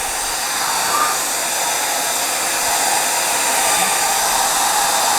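A hair dryer blows steadily on wrinkled journal pages coated with homemade gesso, a constant close airy roar with no talking.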